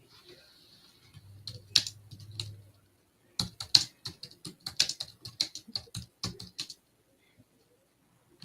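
Rapid clatter of keys on a computer keyboard in quick bursts, close by, with a low hum early on and brief pauses between runs of typing.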